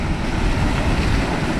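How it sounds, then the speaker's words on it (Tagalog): Rough surf from strong ocean waves roars continuously and loudly, a dense wash of water mixed with wind buffeting the microphone, with no voices. "Sobrang lakas ng alon dito"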